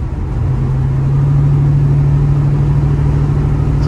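A 1970 Chevrolet Nova drives along in traffic, its engine holding a steady, loud, smooth hum with a slight rise as it pulls, heard up close from inside the car.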